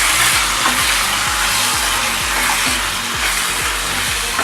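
Mutton fry seasoned with garam masala is stirred in a pan: a rhythmic series of scraping strokes, about two per second, over a constant loud sizzle with no talk.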